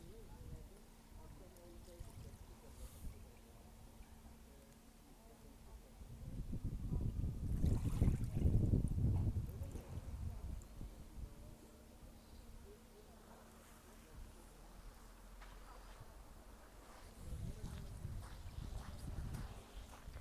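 Gentle calm sea water sloshing against a boat or shore at Hayıtbükü, Datça, swelling and easing in slow waves, with light wind noise in the background.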